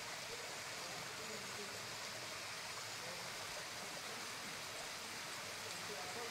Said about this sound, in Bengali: কত উপর থেকে পড়ছে দেখুন ফলসটা, ওই উপর থেকে। এর নাম লেপচা ফলস